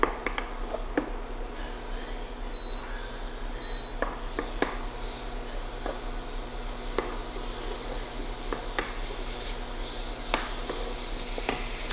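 Onions frying in oil in a home kitchen: a steady, soft sizzle and crackle runs throughout, broken by scattered sharp pops and faint clicks of stirring, with no talking.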